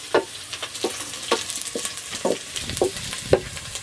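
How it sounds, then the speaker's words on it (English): Intermittent scraping and clattering of a utensil in a pan of frying onions, irregular bursts over a low background sizzle, close by with no voices. "We start by frying our onions until they are golden brown."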